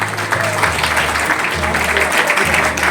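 Audience applause at a grand business icon awards ceremony honouring a four-time national award-winning film director, steady clapping from a crowd held over a low background hum for the full stretch.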